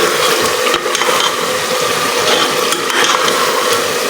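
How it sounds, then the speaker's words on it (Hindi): Mutton karahi, Shinwari style, frying hard over a high flame, giving a steady, close sizzle with occasional stirring and clinks of a utensil against the pan. "अब हम इसे 5 से 10 मिनट के लिए भूनेंगे तेज़ आंच के ऊपर।"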